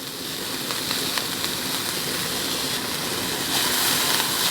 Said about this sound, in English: And you saute for 40 seconds more, just to remove the raw edge.